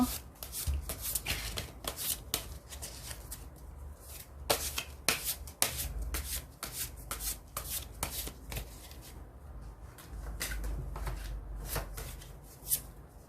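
Tarot cards shuffled and handled up close, a steady run of crisp riffles and soft slaps with brief pauses, with no voices.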